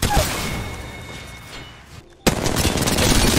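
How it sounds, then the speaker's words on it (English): Gunfire in the Apex Legends video game plays as a loud burst of rapid shots, then a brief drop to near quiet before another dense, close volley of firing resumes. "They're shooting at me."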